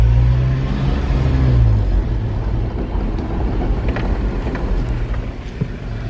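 A car driving past on a road, its engine rumble loud and close at first, then easing into a steady broadband road noise that continues to the end, with no voices.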